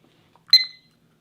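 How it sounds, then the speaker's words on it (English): A food-challenge timer gives a single short, bright electronic beep, close and alone in near silence. "Timer started, 1 hour."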